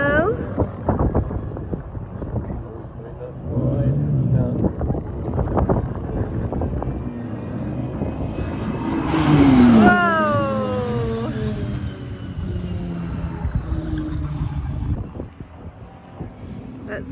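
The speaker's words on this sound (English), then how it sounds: "This one's Dan coming around the corner now." A car rounds a corner at a track day, its engine rising to a loud pass near the middle and then falling as it pulls away, with wind buffeting the microphone and people talking.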